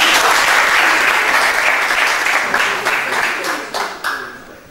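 Audience applause at a charity Ramadan concert in a care home, following a performance by a music group; dense steady clapping that gradually thins and fades toward the end, a few louder individual claps standing out.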